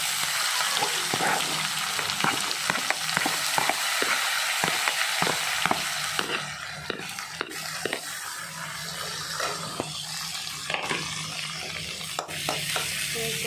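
Onion, green chilli and curry leaves fry in oil under a continuous sizzle, with repeated rhythmic clicks and scrapes of a spoon stirring the pan throughout.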